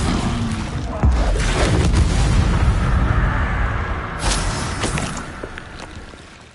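An Incendio fire spell cast in Hogwarts Legacy lands as a loud whooshing boom, then a fiery roar trails off, followed by a second lighter burst a few seconds later.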